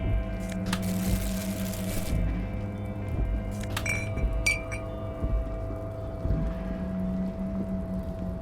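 Glass bottle clinking inside a video game, a few bright chinks and rattles standing out over a steady low mechanical hum and background drone.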